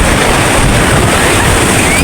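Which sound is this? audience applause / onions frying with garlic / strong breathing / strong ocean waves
strong ocean waves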